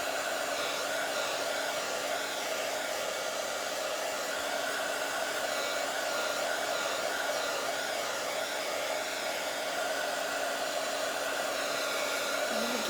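Hair dryer drying fresh paint on small craft pieces, a continuous even rushing hum with a steady tone, close and constant throughout with no talking.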